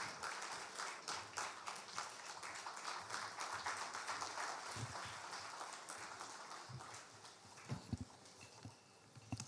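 A crowd at a Ghanaian official event applauds the Vice President of Ghana, with dense, fairly distant clapping that holds steady, then thins out into scattered claps.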